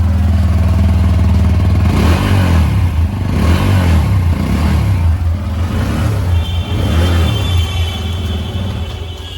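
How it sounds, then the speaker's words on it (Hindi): Exhaust of a TVS Apache RTR 160 2V motorcycle, the 160cc single idling with a loud, close, thumping rumble and several throttle blips that swell and fall back, no talking. "आपको इसका एग्जॉस्ट साउंड सुनाते हैं"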